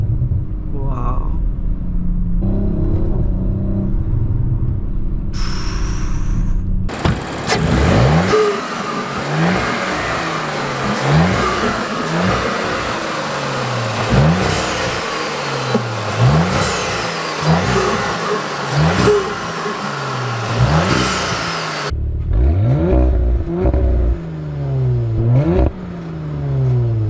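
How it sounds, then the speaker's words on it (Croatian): A 2021 facelift Audi RS5 with a 2.9-litre biturbo V6 of 450 hp revs hard over and over, a loud, rising and falling engine roar lasting about fifteen seconds between quieter idle. "Mislim da zbog GTR-a smo i zavolili malo više ovaj zvuk motora, pa Audi isto kopira malo na taj neki fazon"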